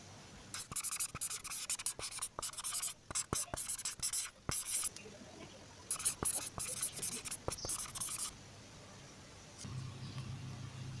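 A pen scratches out a math equation on paper in short, irregular bursts of strokes with brief pauses, close and fairly quiet, in a number-system exercise from an FSc Part 1 math lesson.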